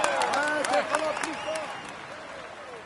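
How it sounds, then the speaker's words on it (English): Crowd applause at a Tour de France presentation welcoming the best climber, heard fairly faint and distant beneath an announcer's voice and tonal sounds, fading toward the end. "Come on, let's applaud him loudly."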